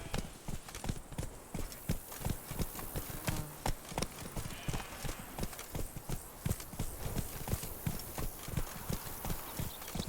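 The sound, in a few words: hooves of Geralt's horse Roach, from video game The Witcher 3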